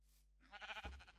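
Sheep bleating in a Minecraft game world, a single wavering bleat rising after a short quiet start, clear and close with nothing else over it.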